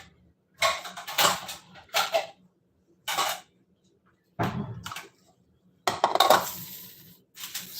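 A lid is fitted over a ceramic casserole dish of beef taco casserole in a home kitchen, giving several separate clinks, scrapes and rattles of cookware close by, with quiet gaps between them and no talk.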